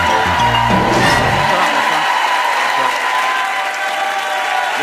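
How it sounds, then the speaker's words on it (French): A TV studio audience on a French talk show applauds loudly to welcome a guest. The clapping is dense and sustained, with music fading out under it at the start. "Et nous recevons aujourd'hui Philippe Croizon sous nos applaudissements."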